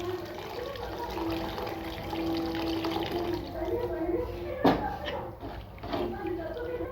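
Water pours steadily into a pot, a continuous splashing stream with a clink partway through, while a voice talks over it.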